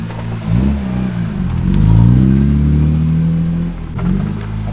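A BMW E46 M3 engine is revved at idle in a couple of swells, rising and falling with a raspy, buzzy exhaust tone close by, the pitch climbing and settling before a final short blip.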